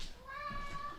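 A cat lets out a single drawn-out meow at moderate distance, fairly faint over low room noise in a kitchen setting.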